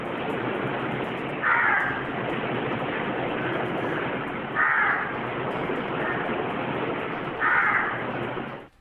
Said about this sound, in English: a crow calls out to no one the whole time